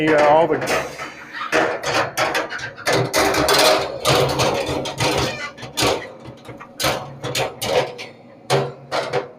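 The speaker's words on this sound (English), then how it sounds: "putting in all the cooking grates because I want to burn them off too" Metal cooking grates of a Pit Boss Laredo grill being set in place, a run of clanking and rattling metallic knocks at close range, irregular and fairly loud.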